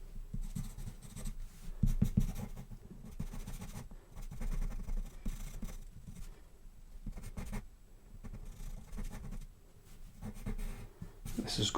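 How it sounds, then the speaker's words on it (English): Pastel pencil strokes scratching across paper while shading a strong shadow along the edge of a rose, a steady close-up rasp with irregular rhythm and brief pauses, no voices. "what I can do is just draw around that edge, and then I can work the pencil out with that"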